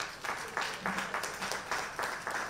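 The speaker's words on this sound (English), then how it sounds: "A very resounding round of applause for Mr. Gabriel" Applause from an audience at a conference session for a departing speaker: a steady round of clapping from a fair-sized crowd with rhythmic surges, moderately distant and soft, with no talk over it.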